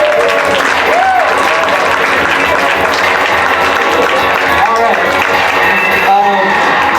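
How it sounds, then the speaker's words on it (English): Audience applause and clapping fill a small improv comedy venue for three performers who lead the scenes, a steady loud wash of hands under cheering and voices talking throughout. "Round of applause for our 3 leaders here."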